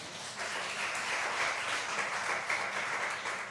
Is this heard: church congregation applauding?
yes